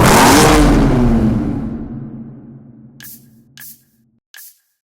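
A twin-turbo 3.8-litre V6 supercar in Need for Speed Hot Pursuit gives a loud burst of revving that fades away, followed by three short, sharp hissing bursts like blow-off releases.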